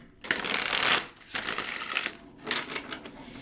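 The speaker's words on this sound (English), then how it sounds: "I was shuffling my deck like this" A tarot card deck being shuffled by hand, close and fairly quiet: a long riffling burst followed by several shorter bursts of card-on-card rustle, alone without voices.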